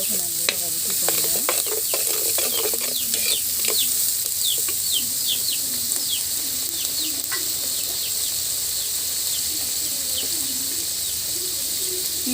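Onions sautéing in a pan, frying at a steady close sizzle with occasional stirring scrapes, while birds chirp faintly in the background throughout.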